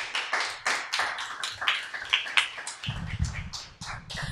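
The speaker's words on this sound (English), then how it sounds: "One more round of applause for Lami." Applause at a small live talent show, scattered clapping from a modest audience with uneven taps and a low rumble joining partway through.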